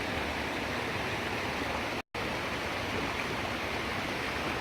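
Steady rushing of river water flows close by on a hiking trail, a dense, even roar that stays constant apart from a brief dropout.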